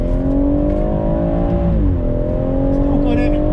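A BMW M140i at full throttle on track at Snetterton, its engine holding a loud, steady drone with a shift in pitch partway through, while someone talks over it.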